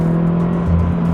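Subaru BRZ with an aftermarket exhaust droning steadily while driving, a loud, close, low engine hum that swells slightly near the end.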